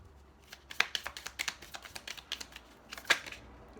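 A deck of Island Time Wellness Love Oracle cards is shuffled close by, giving a run of crisp, rapid riffling flicks with two sharper bursts, and no talking.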